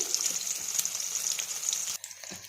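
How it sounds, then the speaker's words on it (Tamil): Onions sizzling in a pan for tamarind gravy, a steady close frying hiss with faint stirring scrapes, cutting to a quieter sizzle near the end. "அடுத்து வெங்காயம், இதெல்லாம் போட்டு வதக்கிட்டு"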